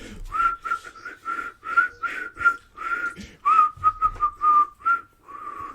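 A person whistles a tune, a series of clear melodic notes in a steady rhythm, close and fairly loud, with no talking.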